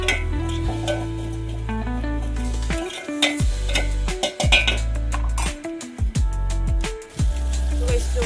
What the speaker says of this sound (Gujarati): મીઠું નાખીને ફરીથી મિક્સ કરી દઈશું.